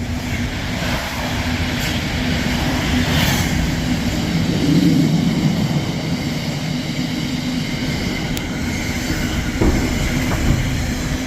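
A Pendolino train rumbles past close by at Rugby on the West Coast Main Line, a steady heavy roar of wheels on rails that swells in the middle and holds throughout.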